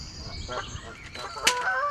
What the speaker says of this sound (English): I've got pestered by Canada geese who just want to eat my sandwiches all the time.